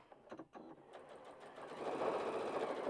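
A sewing machine runs a basting stitch close by. A few soft handling clicks come first, then the motor whirs up into a steady rapid needle rhythm.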